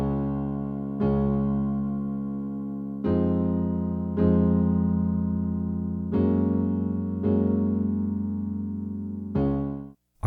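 Piano plays the chorus of a song as a series of full, sustained chords struck roughly every one to two seconds, each ringing and decaying, close and solo.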